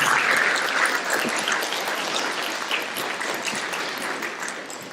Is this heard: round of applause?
yes